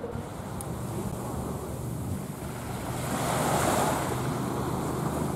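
Sea waves washing in on the Sicilian coast, a steady rushing surf with wind buffeting the microphone, swelling louder midway and heard alone.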